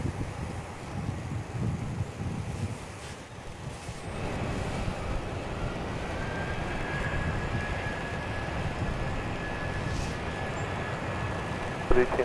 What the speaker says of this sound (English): 34 clear for takeoff, Jetstar 448.